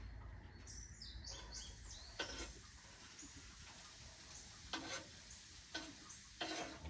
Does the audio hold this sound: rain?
no